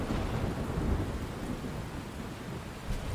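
Steady heavy rain pours down with a low, continuous rumble of thunder underneath in Life is Strange, dense and enveloping, with no voices.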